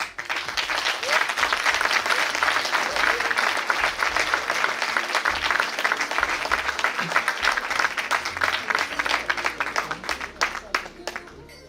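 At a talent show finale, the crowd applauds as Sarah Vautier comes on stage, a long, loud wash of clapping with cheering voices and talk mixed in, thinning slightly toward the end.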